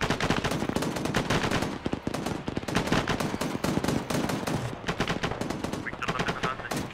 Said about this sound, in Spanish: Artillero, ahora fuego.